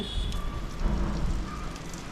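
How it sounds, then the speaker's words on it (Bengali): Rain falls steadily outside a hotel room balcony at Bakkhali on a monsoon day, a soft continuous wash of drops close by for the whole stretch, with no talk. "এখন এই মুহূর্তে বাইরে বৃষ্টি পড়ছে"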